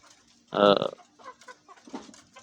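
Egyptian Fayoumi chickens being fed greens give one loud, close cluck, then softer scattered clucks and rustling, with no one speaking.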